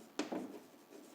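Numbers being written on a board during a statistics lesson, a short scratchy stroke followed by a softer rubbing mark, close and faint.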